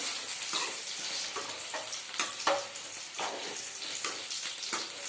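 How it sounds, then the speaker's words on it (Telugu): Eggplant pieces fry in a pan with a continuous soft sizzle, broken by repeated scraping stirs that give brief louder crackling bursts. "వేగినాయండి వంకాయలు"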